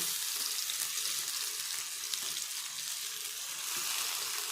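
Grated mango stirred into fried onions in a pan, a steady, even sizzle with soft stirring throughout and no voices.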